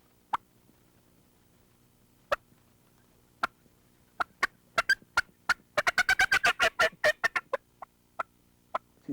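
A wild turkey hen calls at dawn, a few sharp, isolated yelps spaced out at first, then a fast, rhythmic run of clucking yelps that gradually slows and fades, close and clear against a quiet background.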